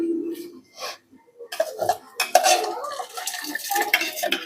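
Dry rice poured into a pot of whole spices (stone flower, bay leaf, cinnamon, red chilli) and stirred for chicken dum biryani, giving close scraping and clinking bursts after a quieter start.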